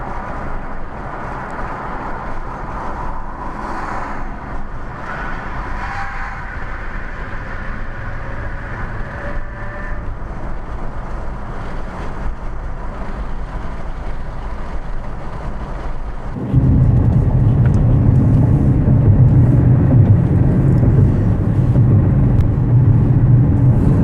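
A 2013 Nissan Rogue cruising over a bridge, heard from inside as a steady road and engine rumble that grows louder and rougher partway through, with no talking.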